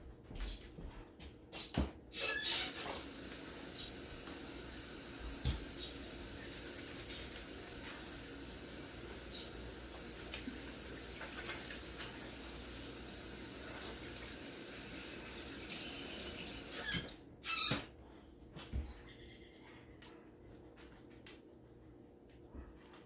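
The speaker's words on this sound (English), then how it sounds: "now I gotta wash my hands" A kitchen tap runs for hand washing, a steady close hiss of water lasting about fifteen seconds, bracketed by brief clatters as it is turned on and off.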